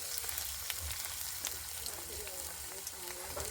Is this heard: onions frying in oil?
yes